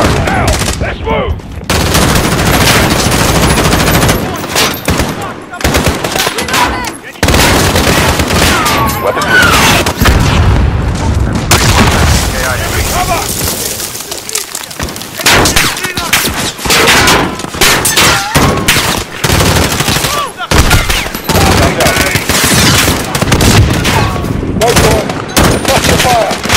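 Heavy gunfire fills a Modern Warfare campaign battle: dense bursts of automatic fire, booms and cracks close and loud, nearly unbroken for the whole stretch, with brief lulls.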